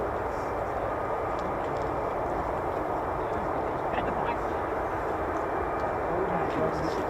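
F-15 and F-35 fighter jets flying over RAF Lakenheath, heard as a loud continuous broadband jet roar that holds steady for several seconds, with faint voices in the background.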